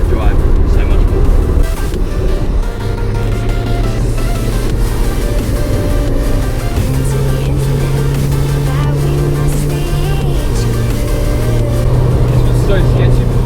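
A car drives a winding road through corners and an S-bend on a cold day, its steady engine drone close and loud throughout, with pitch shifting between gears. Wind and road roar sit underneath, and a voice talks over the engine.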